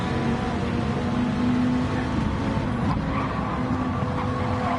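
A GT race car engine at Autopolis drones steadily as it accelerates sideways out of a corner, a sustained mid-distance roar with little change in pitch and no voices.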